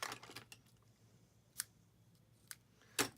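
Scissors snip through a ribbon during a stamping and papercraft project: a few sharp, isolated cuts spaced apart, close and fairly quiet, with no talking.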